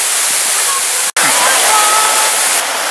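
Water at the Suuçtu waterfall rushes steadily, with a loud, dense, continuous roar from a stream and falls and a brief dropout partway through.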